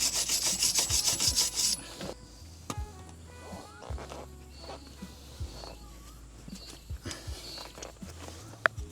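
Abrasive scrubbing of a brake hub surface to clear built-up debris, with a fast rhythmic rasping burst at the start, then quieter intermittent scraping and clicks close by.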